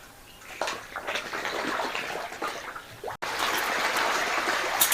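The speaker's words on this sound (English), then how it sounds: "This is where the water comes out from." Water gushes from a pipe outlet into a fishpond in a continuous, close splashing flow that cuts out for a split second, then returns louder and steadier.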